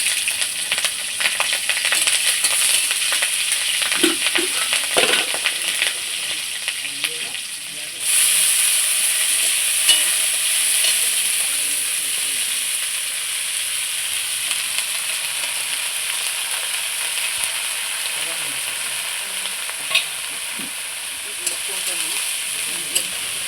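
Dheki shak fries in hot mustard oil with green chillies and kalo jeere, a loud continuous sizzle and hiss with occasional stirring scrapes, settling slightly quieter partway through.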